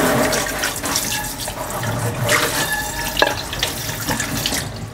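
Water runs steadily from a kitchen tap as rice is washed, a loud, close, continuous splashing rush with small shifts in tone and a few brief clinks.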